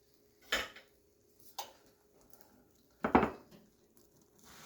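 Stray metallic clinks and scrapes sound from a pan as a moong and masoor mixed daal pita is turned over. Three short, separate handling sounds come close up against a quiet background, with a faint sizzle in between.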